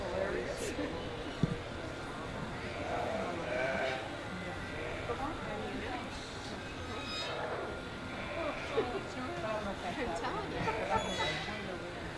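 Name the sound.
spring ram lambs bleating at sheep show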